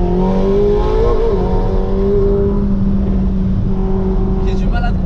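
A legendary car's engine revs from close inside the cabin, a loud sustained drone whose pitch climbs and then holds steady, with a brief faint burst of higher noise near the end.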